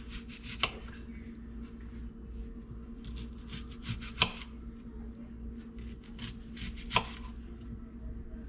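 Three sharp knife strikes on a cutting board, spaced a few seconds apart, with lighter scraping and rubbing between them while an onion is cut into cubes; close and fairly quiet, with no talk.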